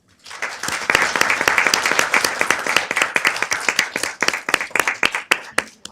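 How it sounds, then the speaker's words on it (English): At a city council meeting, the audience applauds to honor nurses. Crisp, close hand claps build into a dense round, then thin toward the end into separate, uneven claps with no voices. "let's give a huge round of applause for our nurses"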